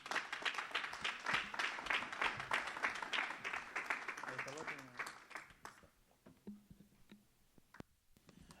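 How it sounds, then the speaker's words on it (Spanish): Congregation in a church clapping during a Wednesday evangelical service, dense applause for about five seconds then thinning to scattered claps and fading, with voices and cheers mixed in. "Un aplauso al Espíritu Santo"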